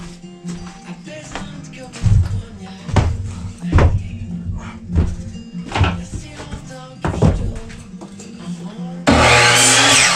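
Wood for a snowshoe frame is cut in a run of uneven knocks and scraping strokes, ending in a steady, loud rasping burst.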